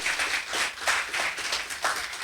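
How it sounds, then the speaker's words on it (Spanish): A church congregation claps together in a strong round of applause, dense and steady throughout, with no voices over it. "¿Cuánto dan un fuerte aplauso a las promesas del Señor que nos ha dejado?"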